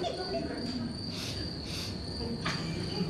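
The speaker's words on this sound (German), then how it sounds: "Grillen." Crickets chirp steadily through a Swiss-German dialect stage comedy scene, a continuous high trill with a few brief louder bursts, moderately loud and unbroken throughout.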